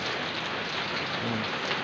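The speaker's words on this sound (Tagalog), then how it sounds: "Kahit umuulan." Steady rain patters on a roof over a house extension under construction, a dense even hiss of drops with no voices.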